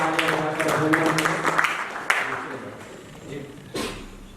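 An audience claps in welcome at a national seminar for Swami Dayanand Saraswati's birth anniversary, with scattered, moderately loud claps under a speaker's amplified voice before tapering off.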